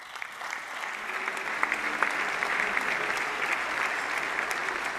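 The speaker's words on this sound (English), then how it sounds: "Please, a big applause for IHF Competition Director Patrick Strupp" An audience applauds on stage at the draw for the 30th IHF Men's Handball World Championship. Steady, dense clapping fills the whole stretch from a large indoor crowd, with no talking over it.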